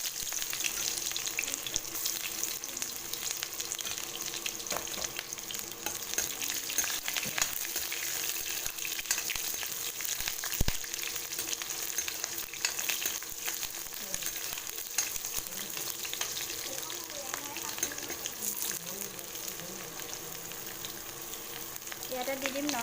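Onions and a few spice seeds hiss in hot oil while a pumpkin and borali fish dish is started, giving a soft, steady sizzle throughout with occasional faint clinks.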